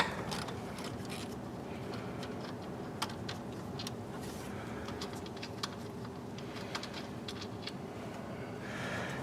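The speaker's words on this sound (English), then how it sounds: "unbolt these 2 bolts that hold the fuel rail in place." A ratchet wrench loosens the 8mm bolts holding the fuel rail on a Ford F truck, giving soft, scattered clicks and small metallic creaks close by in a quiet setting.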